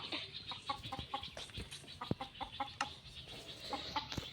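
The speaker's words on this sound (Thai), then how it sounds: "โอ้ยไอ้ไก่เนี่ย" Chickens cluck in the blocky survival game Minecraft, with a run of short, clipped clucks spaced unevenly across a few seconds over a faint background.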